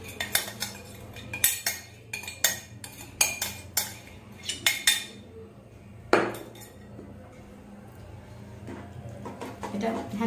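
A rice flour and powdered milk mixture with sugar being stirred in a pan for rice flour sondesh: rapid metallic clinks and scrapes of a utensil against the pan, close and rhythmic, then slower stirring.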